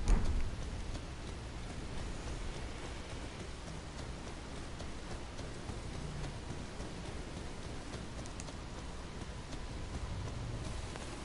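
Steady rain falls in the Elden Ring game world, a constant even hiss of moderate loudness that runs unbroken from start to finish with no other clear sounds.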